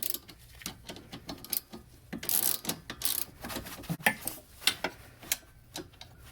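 A hand ratchet clicking as it tightens strut bolts on an 8th or 9th generation Chevrolet Impala, giving quick bursts of close mechanical ticks with short pauses between strokes.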